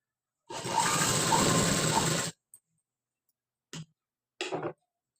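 A sewing machine runs a fast burst of stitching on a high collar neck back panel, then stops, followed by two short spurts of stitching separated by silence, all close and clear.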